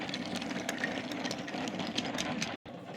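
A steam engine named Douglas hauls a midnight goods train down the line, a steady broadband chuffing rumble that runs alone throughout and cuts out briefly near the end before resuming.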